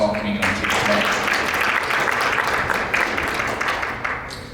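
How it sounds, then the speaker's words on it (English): Audience applause welcoming three panel speakers at a law conference breakout session; a continuous round of clapping from a modest crowd, steady and moderately loud before tapering slightly at the end. "If you give them a round of applause welcoming them here today."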